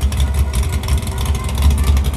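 Pontiac Firebird drag car at a dragstrip, its engine roaring loud and close with a deep, throbbing low rumble, steady and continuous throughout.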